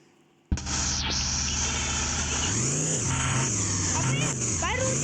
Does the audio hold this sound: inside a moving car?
yes